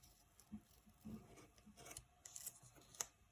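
Scissors cutting straight across lines on a sheet of glitter mug decal material, quiet close snips and rustling in small uneven bursts.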